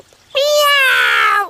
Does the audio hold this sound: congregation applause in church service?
no